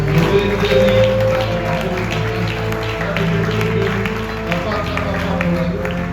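A church congregation claps steadily during a worship service, the applause blending with voices and sustained musical tones.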